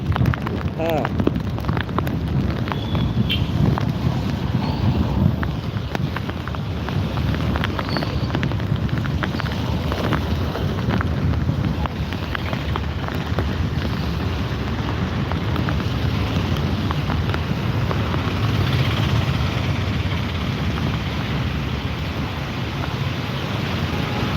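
Heavy rain and gusting wind lash the area during Cyclone Montha, a steady dense roar of downpour and wind buffeting close to the microphone, continuous throughout with people talking over it.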